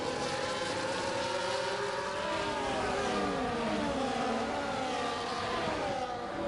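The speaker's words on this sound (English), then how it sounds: "Look at this, 1, 2, 3, 4, 5, 6, 7 cars, bumper to bumper, side by side, every lap, most of the corners" Several race cars running bumper to bumper in an ERL race in Spain, their engine whines overlapping in rising and falling pitch sweeps as the pack passes, loud and steady with no talk.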